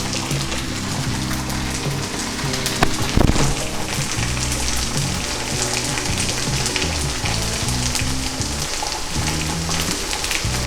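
Oil sizzles loudly and steadily around a beetroot dosa on a hot pan, a dense crackling hiss with one brief sharper pop partway through.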